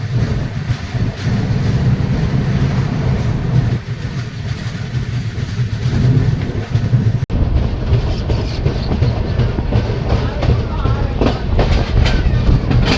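Passenger train on the Howrah–Agra line rolling out of Chitrakoot toward Banda, a steady loud rumble with rhythmic wheel clatter and faint squeals, heard from inside the carriage, with a brief break midway and no talk.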